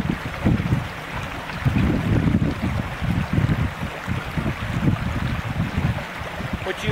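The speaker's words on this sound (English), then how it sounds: "What you hear in the background is a creek." Creek running through a mountain hiking spot, a continuous rushing wash of water close by, mixed with gusty wind buffeting the microphone.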